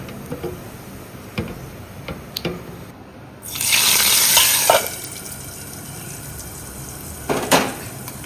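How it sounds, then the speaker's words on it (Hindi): Cumin, nigella seeds and asafoetida hit hot oil for tempering, a sudden loud sizzling hiss that swells midway and settles, preceded and followed by light clinks of utensils against the pan. "और बस अब लगा देते हैं इसमें तड़का।"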